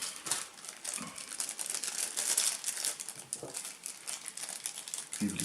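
Close, continuous crinkling of plastic bags being handled and opened, with occasional soft thumps and no clear speech.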